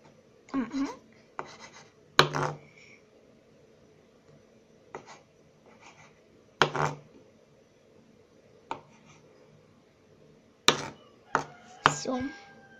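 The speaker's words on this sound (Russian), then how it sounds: "Сваренные яйца мы будем резать ножом." Knife chopping boiled eggs into cubes on a board, a series of sharp, uneven cuts in short bursts with quiet pauses between, close and clear.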